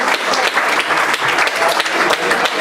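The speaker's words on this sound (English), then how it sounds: "big round of applause for Dave" An audience at a team awards dinner breaks into a big round of applause for their coach, dense and loud clapping filling the room for a few seconds.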